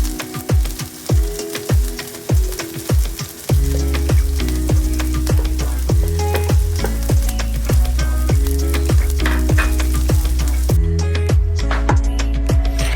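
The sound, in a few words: onions frying in pan for corned beef fried rice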